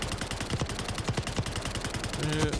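Rapid gunfire from a PP919 submachine gun in a video game, a burst of closely spaced loud shots with a steady rhythm and some game background sound, no talking.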